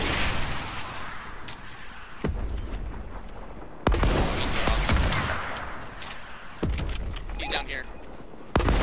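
Players shoot in a multiplayer video game, with repeated sharp gunshots and booming impacts scattered through the scene while people talk over the firing.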